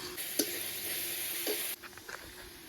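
Onions fry in a pan with a bright, close sizzle and a few soft stirring scrapes, the hiss dropping away abruptly near the end.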